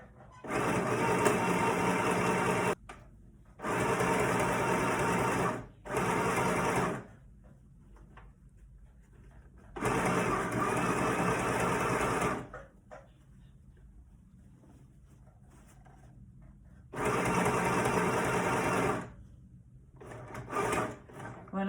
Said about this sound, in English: I'll be able to go to the machine and sew down one side, pivot across, and back up the other side.